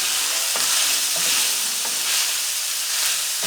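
Beef and pork sizzle and brown in a hot pan for a green chili, a steady bright crackle with a few soft stirring scrapes, close and alone without any talk.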